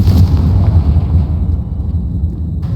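A Confringo fire spell exploding in Hogwarts Legacy, a loud, heavy blast with a deep rumbling body that fades over a few seconds.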